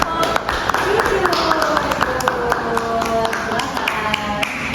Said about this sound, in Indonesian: beri tepuk tangan untuk kelompok tujuh